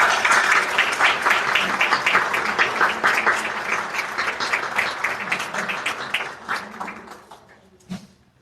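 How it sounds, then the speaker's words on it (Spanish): Warm applause from a seated audience at a Dominican history panel in Mexico, steady and full for several seconds before thinning out and stopping, with a brief bump near the end. "a quien recibimos con un aplauso"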